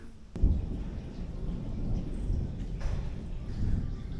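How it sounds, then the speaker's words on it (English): Low, rolling thunder over an Alpine campsite, a broad distant rumble that swells and fades without sharp cracks, steady and dull throughout. "Maybe it was thunder and lightning"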